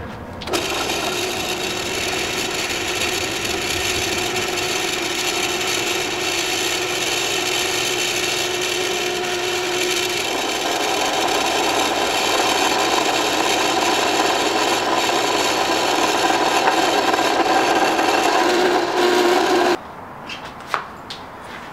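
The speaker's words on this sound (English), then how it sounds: "So I'm just going to go ahead and drill right through it." A power drill bores steadily through a metal block for a homemade go-kart build: a continuous whining, grinding drone lasting about twenty seconds at close range, then stopping abruptly, followed by a few small clicks and taps.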